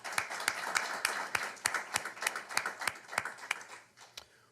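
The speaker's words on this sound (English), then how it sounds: "So let's give her a round of applause." Scattered audience applause for a speaker at a water resources board meeting, a small group clapping unevenly with distinct individual claps, moderately close and tapering off.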